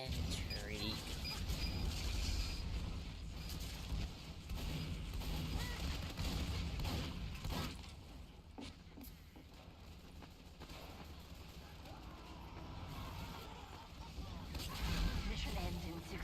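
Rapid automated fire from a sentry gun in the game Team Fortress 2, a dense continuous rattle of shots mixed with other game noise and a voice talking over it throughout.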